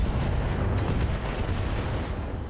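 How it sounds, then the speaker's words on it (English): A mech's ammunition detonates in the BattleTech mod RogueTech, a dense, loud rumbling blast that fills the clip with sustained low-end roar and crackle, no voices over it. "Ammunition explosion."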